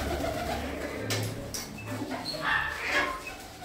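Racing pigeons coo softly near a loft, low repeated calls over a steady background hum, with faint distant voices and a dog-like bark mixed in.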